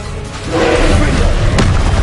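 Confringo blasting spell explosion in Hogwarts Legacy, a loud low boom swelling up midway and rumbling on, with a sharp crack near the end and a shouted incantation over it.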